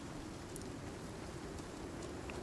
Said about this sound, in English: it's just rain, so we should be all right